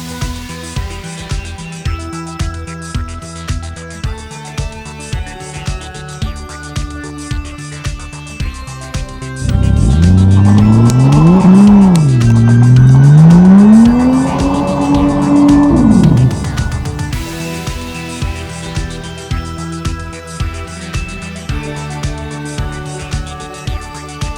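A Ford Falcon engine with bolt-on modifications revs up and accelerates in a loud, rising sweep lasting several seconds, over a steady rhythmic background of music.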